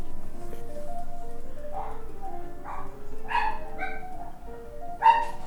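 Several dogs bark in short, separate yips and woofs, moderately close, over a steady background hum.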